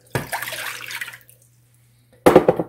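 Water is poured from a measuring cup into a cooking pot for cream soup mix, a short splashing stream over a low steady hum, followed by a brief second splash.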